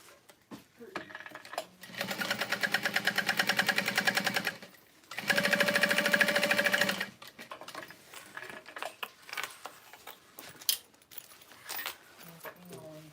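A sewing machine runs in two sustained bursts of rapid stitching, chain-piecing wristlet pieces one after another, with short pauses, fabric handling and quiet clinks between runs.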